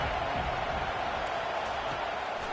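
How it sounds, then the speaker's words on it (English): A football stadium crowd roars in a steady, dense wash during a third-down defensive stand, the broad noise holding loud and even throughout without breaks. "Decibels rising as the crowd gets behind this defense on 3rd down."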